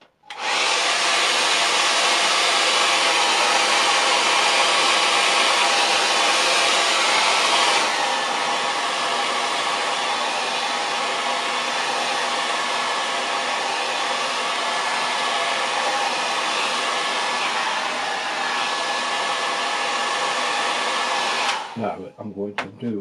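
A hair dryer blows steadily on a watercolour painting, a loud, even, close whoosh that drops slightly in intensity partway through and then clicks off near the end.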